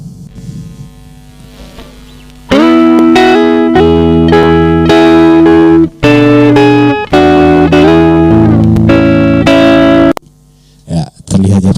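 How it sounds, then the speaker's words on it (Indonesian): Loud electric guitar played through a single band compressor plugin in a DAW, sustained chords and notes with thick, even tone, broken by brief gaps and ending in short choppy strums. "efek yang kita apply ini namanya single band compressor"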